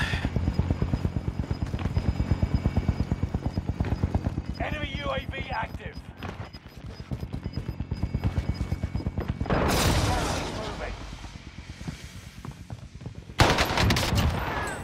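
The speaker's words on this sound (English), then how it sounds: "Is it your minigun, bud?" Rapid automatic gunfire from a minigun in the Warzone video game, loud dense bursts that swell and cut off repeatedly over the whole stretch, with a sharp burst near the end.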